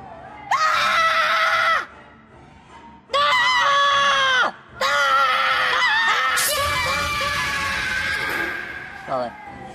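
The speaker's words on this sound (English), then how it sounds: "There's an awful lot of screaming in this film." Repeated shrill, sustained screams in a zombie-granny film, three or four long loud bursts separated by short gaps, with talking mixed in toward the end.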